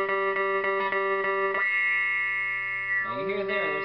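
An electric guitar chord rings through a DIY envelope filter/auto-wah pedal, its tone sweeping and narrowing into a wah-like quack before a new strum cuts in.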